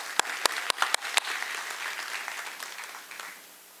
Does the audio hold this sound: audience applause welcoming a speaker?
yes